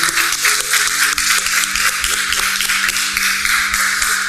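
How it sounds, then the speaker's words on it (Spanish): A church congregation claps together in a strong, brisk round of applause, many hands striking in a dense, rapid patter that stays loud for several seconds. "quisiera que nos pudiéramos dar un fuerte aplauso a todos, por favor, los que estamos aquí"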